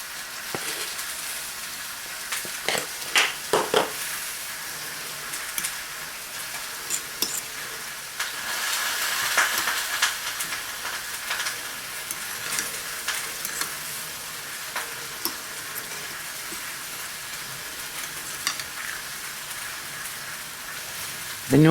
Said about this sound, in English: The noise you hear is the rest of our dinner cooking.